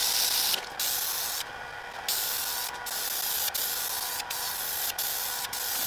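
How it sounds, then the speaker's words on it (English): DAF clear gloss lacquer sprays in a loud, steady, close hiss, broken by short bursts and brief pauses as the nozzle is triggered. "we're going to put a lacquer finish on here. I'll be using DAF clear gloss."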